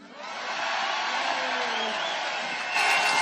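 A crowd at a rally in George Square, Glasgow, cheering and whooping as one broad, steady roar from a large gathering, swelling a little louder near the end.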